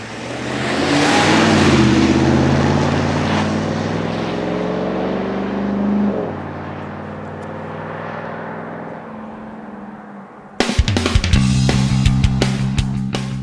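A Ram 1500 pickup with a Hemi V8 and all-wheel drive accelerates hard, engine note climbing through the gears with shifts. The roar then fades, and a sharper, louder mechanical rush cuts in near the end.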